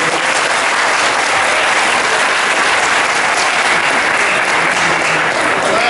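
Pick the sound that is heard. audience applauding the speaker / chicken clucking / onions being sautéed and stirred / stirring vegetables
audience applauding the speaker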